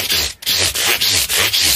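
Guitar frets on a Hagstrom Ultra Swede being sanded with fine-grit abrasive make loud, close rhythmic rasping strokes, roughly three per second, back and forth with brief pauses at each turn.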